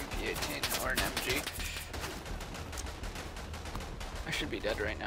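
In the WWI shooter Verdun, an MP18 submachine gun or machine gun chatters in rapid automatic bursts layered with distant battlefield shots, steady and moderately loud throughout.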